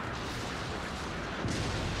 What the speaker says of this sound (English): Yeah, look at that big explosion.